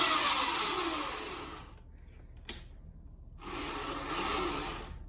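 An electric pit bike motor whines under throttle in two bursts separated by a pause, with a short click in the gap between them; the sound is fairly close and moderate in level.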